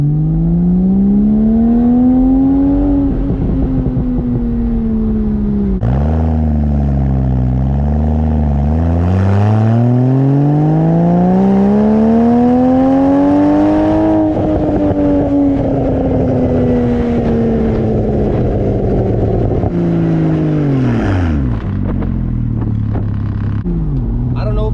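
Porsche engine with an aftermarket intake, revved repeatedly, the pitch rising and falling in long sweeps, loud and near, with exhaust burbles as the revs drop.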